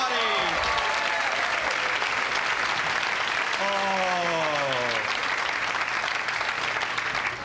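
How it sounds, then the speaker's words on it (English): A comedy club audience applauds warmly for the host, with steady clapping running throughout while someone speaks over it. "Keep it going for your host, Larry Miller, everybody."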